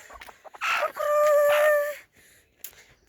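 A rooster crows once in a long, strained call with a steady tonal middle, loud and close, while hens cluck briefly before and after, heard as the bird is carried along a road after being bought.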